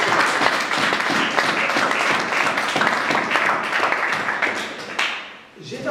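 A church congregation applauding during a sermon, dense, loud and sustained clapping from many hands that tapers off at the end.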